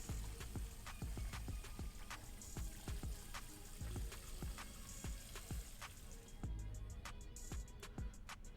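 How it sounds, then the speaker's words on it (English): Faint running water splashes steadily at a sink over vegetables being prepared for makdous, with scattered clinks and knocks of items being handled, no voices. "now we're taking them to the sink, and we're putting water on them."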